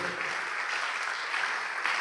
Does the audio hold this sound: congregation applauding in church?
yes